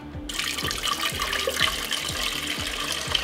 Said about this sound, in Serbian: I evo nakon 15 minuta vratit ćemo vodu u šerpu